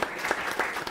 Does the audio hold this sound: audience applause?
yes